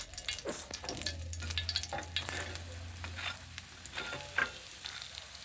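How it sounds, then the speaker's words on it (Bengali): Malai paratha shallow-frying in refined oil over a low gas flame, giving a steady close sizzle with scattered crackles and pops throughout. "এটাকে রিফাইন তেল দিয়ে ভাজবো।"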